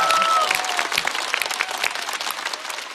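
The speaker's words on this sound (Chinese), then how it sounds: "哼，这也鼓掌啊！" Applause from a stand-up comedy show audience, a dense burst of clapping that starts loud and gradually thins out over a few seconds.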